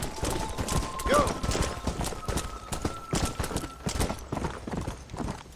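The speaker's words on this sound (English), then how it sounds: "My horse is fast, right?" Rapid, rhythmic hoofbeats of a galloping horse in Red Dead Redemption pound continuously, with a short whinny partway through.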